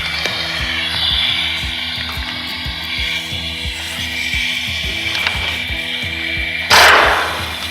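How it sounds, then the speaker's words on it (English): Pneumatic air chisel hammering at a stuck upper stud of a rear shock absorber on a 2001 Jeep Cherokee, a rapid steady metallic chatter running throughout, close and loud, ending in a brief harsher burst. "I'll try the air chisel."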